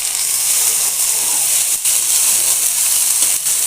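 Spice paste of ground cumin, ginger and garlic frying with browned onion in a pan, a steady close hiss and sizzle running evenly throughout with no voices over it.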